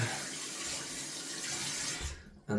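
Tap water runs steadily into a sink while Mitchell's Wool Fat shaving lather is rinsed off fingers, a close, even splashing stream that cuts off abruptly near the end before a brief final splash.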